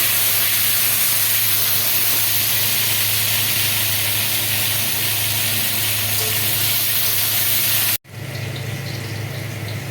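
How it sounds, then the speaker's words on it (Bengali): Potatoes fry in hot oil left over from frying eggs for an egg curry, making a dense, constant hissing sizzle up close that breaks briefly near the end and then resumes. "এই তেলেতে আলুটা দিয়ে দেবো আলুটা ভেজে নেবো"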